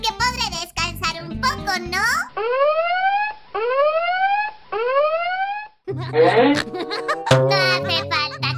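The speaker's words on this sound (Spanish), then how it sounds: "Ya he escuchado la alarma de trabajo." A rising, whooping electronic alarm repeats three times in a row, loud and clear, with someone talking before and after it.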